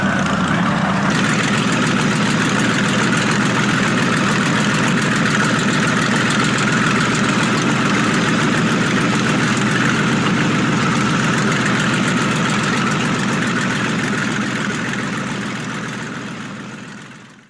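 A vintage car powered by a 42-liter Packard V12, originally a marine aircraft engine of about 1,500 horsepower, runs with a loud, dense, steady roar that holds throughout before tapering off at the end.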